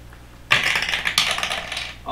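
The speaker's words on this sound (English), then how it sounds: "All them dice." Dice roll across a table during a Pathfinder tabletop game, giving a sudden dense clatter of hard little clicks that rattles for about a second and a half before stopping.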